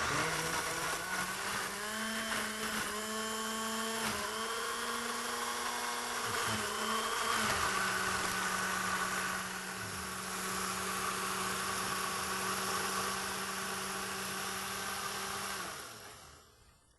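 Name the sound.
blender blending bananas for granola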